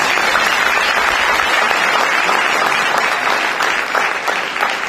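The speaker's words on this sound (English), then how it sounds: "Please, if you would, give our faculty a round of applause." A large audience at a senior walk and excellence awards ceremony applauds the teaching faculty, with steady, dense clapping filling the hall for about five seconds before easing slightly at the end.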